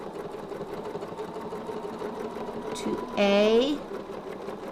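A sewing machine stitches a quilt template, a quick loud burst of motor whir with rising pitch near the end, following steady background hum while a person speaks softly.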